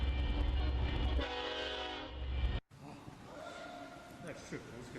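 A train rumbles past with a long blaring horn, then the sound cuts abruptly to a quieter, noisier rolling background.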